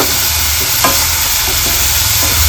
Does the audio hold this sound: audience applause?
no